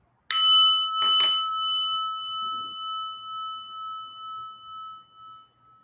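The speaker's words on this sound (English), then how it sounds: "And listen to the bell." A bell is struck twice in quick succession, then its clear tone rings on and slowly fades over several seconds.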